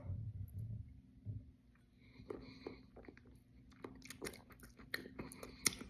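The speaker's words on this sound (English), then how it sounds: "I'm basically going to smack my lips together and I'm going to chew the bourbon inside my mouth" Close, quiet wet chewing and lip smacking as a mouthful of bourbon is worked around the mouth in a Kentucky Chew, with irregular crunchy smacks that grow busier toward the end.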